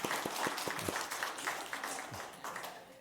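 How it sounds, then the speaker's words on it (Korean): A church congregation at a Sunday worship service claps in welcome, a lively, fairly close burst of applause with individual claps audible throughout. "박수로 환영하겠습니다."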